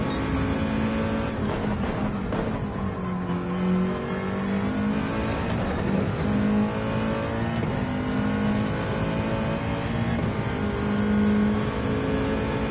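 Race car engine in a racing video game, droning steadily with shifting revs and gear changes, holding at high pitch throughout with no one talking over it.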